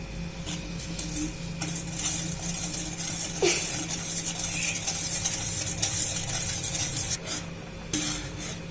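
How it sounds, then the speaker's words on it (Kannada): Vermicelli payasa with melted sugar and almond powder stirred in a pan, with continuous scraping and clinking of a spoon against metal, bubbling sizzle underneath and occasional sharper knocks. "ಹಾಕೊಂಡು ಚೆನ್ನಾಗಿ ಮಿಕ್ಸ್ ಮಾಡ್ಕೊಳ್ಳಿ."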